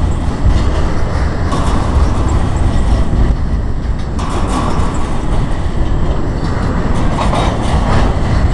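A Norfolk Southern stack freight train rumbles past close by, a steady heavy roar with rattling wheels and clatter that holds for the full length without a break.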